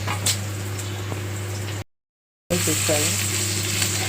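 Chopped onions with a teaspoon of salt sizzle and fry steadily in a pan for gongura prawn biryani, a continuous close crackle under a steady low hum, cut by a brief silent gap partway through.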